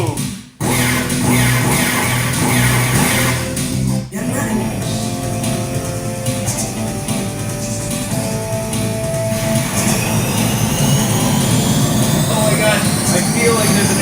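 An arcade racing game fitted with modded audio thunders with loud engine roar and rumble, with a brief dip near the start and a swelling whine later. A person talks over it at times.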